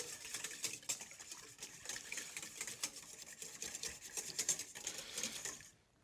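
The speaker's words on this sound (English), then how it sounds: "Now I want to use a whisk and just combine all of my liquid ingredients." Liquid muffin ingredients with vanilla extract being whisked in a bowl, rapid continuous clicking strokes that stay close and steady before stopping at the end.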